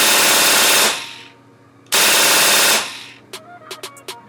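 Tippmann M4 HPA paintball rifle firing rapidly, two loud continuous bursts of fast shots close by, split by a short pause, then a few light mechanical clicks.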